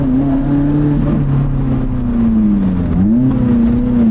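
A Lotus Elise engine droning steadily at high revs on a road of sharp hairpins, close and loud, with the pitch dipping and rising again as the driver shifts and turns.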